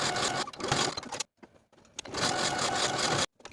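Close, loud sewing machine top-stitching along the slanted edges of a jacket pocket, with two fast continuous runs separated by a brief pause and ending with an abrupt stop.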